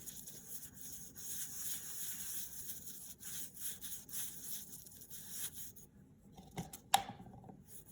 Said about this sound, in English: I'm going to use the stiff bristle brush for that.